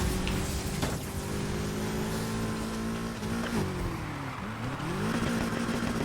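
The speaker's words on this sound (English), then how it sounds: "Did they change the sound of the BMW? It sounds kind of weak." A BMW car engine in the racing video game Need for Speed Heat, a continuous engine drone with audible gear shifts and pitch drops and rises under steady road and wind noise.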